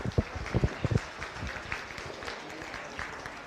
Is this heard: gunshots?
no